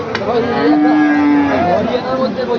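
Large bulls at a busy cattle market low loudly and close by, one deep drawn-out moo with another overlapping, over a constant murmur of crowd noise.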